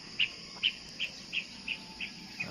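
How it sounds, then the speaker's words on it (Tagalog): Birds chirping on a cold early morning at a countryside vacation house in Batangas, Philippines: a single bird repeats about seven short, high, evenly spaced chirps against a quiet background. "Marinig mo talaga yung huni ng mga ibon."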